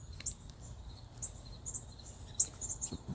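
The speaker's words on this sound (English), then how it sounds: "Some birds in the tree." Birds call from a tree during an outdoor dog walk, several short high chirps scattered across a quiet background with a low rumble of wind or distant traffic.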